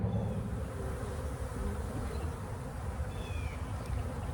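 Honeybees buzzing around an opened hive after a knock, a dense, steady, close drone of many wings filling the air with no speech.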